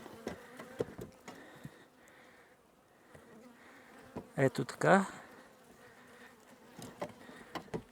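Honey bees buzz around an open hive frame as the beekeeper works, a constant close droning with passing bees swelling louder, under brief speech and handling noises.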